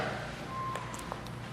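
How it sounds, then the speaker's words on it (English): A phone alarm beeps faintly with a thin tone through a quiet room, set against a soft, steady background hiss. "Let me turn off my alarm"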